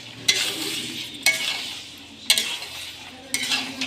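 Mutton pieces tossed into a hot pan for curry and stirred, with a spatula scraping in four firm strokes about a second apart over a steady close sizzle.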